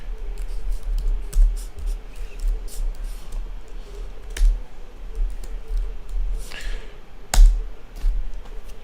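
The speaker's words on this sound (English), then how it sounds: "I have to type it in, unfortunately." A computer keyboard being typed on to enter a discount code, with a run of close, irregular key clicks and a few louder taps spread across the stretch.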